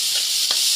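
Ingredients sautéing in hot oil for ginataang puso ng saging, a steady bright sizzle with a brief stir, close and continuous.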